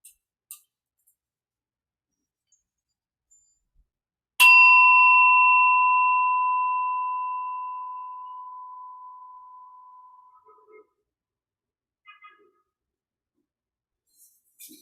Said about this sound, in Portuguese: Deixe que o som do sino seja um sinal para você relaxar.